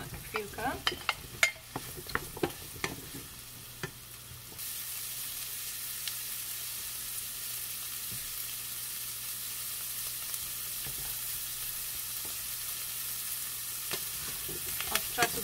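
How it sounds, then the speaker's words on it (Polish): Brussels sprouts frying with bacon and garlic in a pan, a steady soft sizzle throughout, with clattering stirring knocks near the start and occasional utensil taps later. "Brukselkę i smażymy tak chwilkę."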